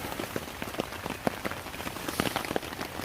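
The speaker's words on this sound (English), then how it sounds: "Well, it's raining." Steady rain patters over a wild camp where a USGI bivvy bag is pitched, with scattered close drops tapping irregularly on the surface through a constant hiss; no voices.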